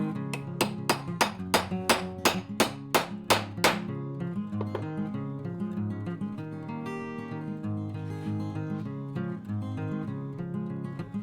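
A small ball peen hammer peens over a rivet post while a knife sheath is made, about ten sharp, evenly spaced metallic strikes, followed by a busy musical backing.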